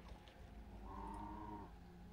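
A cow in the farming game Kubifaktorium lets out a single drawn-out low moo, faint and steady, over a quiet background hum.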